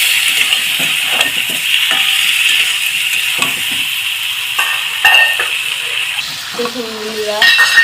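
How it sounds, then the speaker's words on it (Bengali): Potatoes and eggs frying with spices in a pan, a loud close sizzle under repeated scraping and stirring strokes, with occasional light clinks of utensil against metal and no talking. "আমি এবার আলু ডিমটাকে একসাথে ভালোভাবে মশলার সাথে কষিয়ে নেব"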